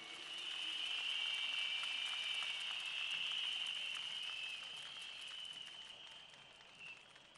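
An audience applauds steadily at an evening political rally on a stage in Pathum Wan, a dense, even clapping that swells early and slowly tapers off over several seconds.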